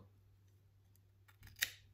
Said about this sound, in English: look at these big contrast scissors from Dollar General